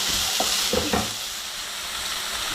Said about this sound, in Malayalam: അത് നമുക്കിതിലേക്ക് ഇട്ട് കൊടുക്കാം. അതൊന്ന് ഒരു മിനിറ്റ് നമുക്കൊന്ന് ചെറുതായിട്ടൊന്ന് ഫസ്റ്റ് സോട്ട് ചെയ്തെടുക്കാം.